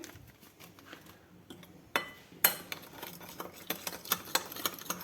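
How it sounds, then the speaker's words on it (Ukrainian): Marinated eggplant and zucchini salad being mixed in a bowl, with soft wet stirring followed by a run of sharp utensil clinks and taps against the dish, close by and without talk. "Перемішуємо гарненько ще раз."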